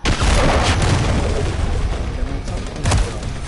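A cruise missile explosion in a video game makes a loud, dense boom with a rumbling, crackling blast that holds throughout, over a chaotic battlefield with more distant gunfire in the mix.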